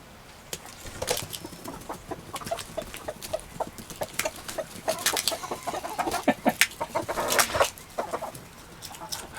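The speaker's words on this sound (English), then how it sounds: "Look at the roosters." A flock of chickens and roosters on a homestead cluck and squawk continuously nearby, with overlapping calls that grow busier and louder toward the end.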